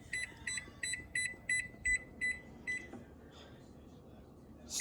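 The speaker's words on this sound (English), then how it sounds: "Kitchen timer." Electronic kitchen timer beeping in a home kitchen while baking brownies, eight or nine short bursts of rapid high beeps in a steady rhythm, fairly close, then quieter room noise.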